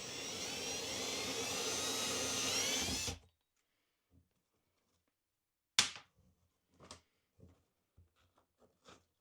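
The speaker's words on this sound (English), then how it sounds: "I'm going to recess that drill bit." Power drill boring into a camper slide, a loud continuous whine for about three seconds that stops abruptly, followed by quieter scattered knocks and handling clatter.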